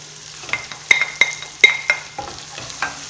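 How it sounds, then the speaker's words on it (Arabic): Chicken frying with onion and garlic in a pan, a close sizzle broken by several sharp scraping stirs and clinks of the utensil against the pan, no talk. "اذا نقليها مع البصل والثوم والدجاج تاعنا"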